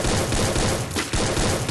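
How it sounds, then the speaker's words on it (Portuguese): Heavy, sustained video game gunfire, loud and dense, with rapid overlapping bursts filling the whole clip and only a brief lull partway through. "Menino dá tiro demais aqui. Esse daqui atira muito."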